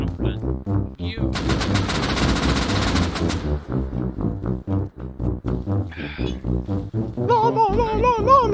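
Gunfire in the survival game Rust, a dense burst of rapid automatic shots lasting about two seconds, then scattered lighter hits, mixed in with ongoing game sounds and a voice talking.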